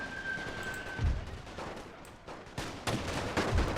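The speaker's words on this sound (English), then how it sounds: "the mortars are getting their shots off here" Battle sounds in the Total War Great War mod: mortar and rifle fire during a British campaign fight against Italy, with several muffled thumps and sharp cracks over a steady rumbling din.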